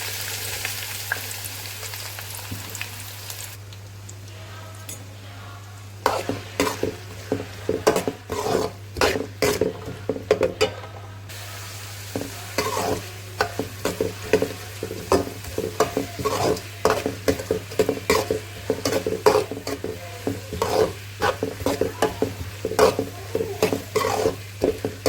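Finely chopped onions fry in hot oil with cinnamon, cloves and cardamom in a pan. A quiet stretch gives way to a steady sizzle under repeated scraping stirs of a spoon, close and continuous.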